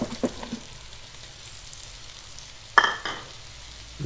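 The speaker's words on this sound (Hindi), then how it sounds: "तकरीबन 5 से 7 मिनट तक सब्जी को मसाले में भून लेते हैं।" Potatoes, peas and carrots fry in masala in a pan for a dhaba-style mixed vegetable dish, a soft steady sizzle with a few clinks and scrapes of stirring, one sharper clatter near the end.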